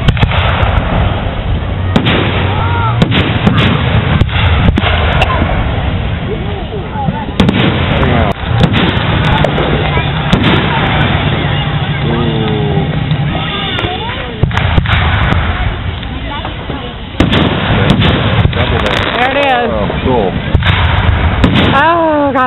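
Fourth of July fireworks boom and crackle repeatedly, a string of loud bursts and pops at irregular intervals, with people talking and exclaiming between the blasts.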